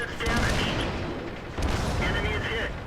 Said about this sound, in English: Hetzer fired and missed.